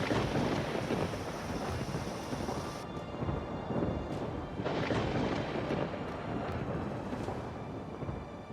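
A thunderstorm over Uttar Pradesh pours heavy rain in a dense, continuous roar, with gusting wind buffeting the microphone and deep rumbles of thunder rolling through, no voices.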